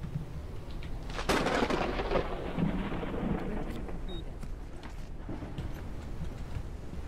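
During a video game thunderstorm, a sudden sharp thunderclap cracks loudly, then rolls off into a long fading rumble over a continuous hiss of falling rain.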